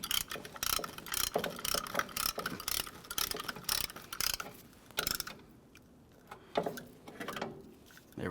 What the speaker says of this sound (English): Now we can continue on by pressing this in, and that'll press in both of those pistons. Let's use a caliper compression tool here.